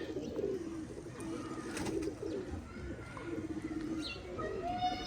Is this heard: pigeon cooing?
yes